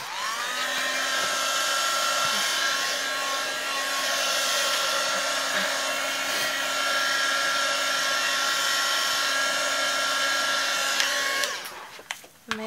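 A hair dryer blows steadily and loudly for about eleven seconds while drying a rice paper collage on canvas, then switches off with a short rattle at the end.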